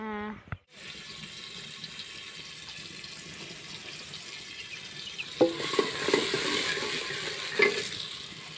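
Onions frying in a pot for curry, a soft steady sizzle after a brief opening noise, with louder stirring clatter and scraping later and faint kitchen sounds alongside.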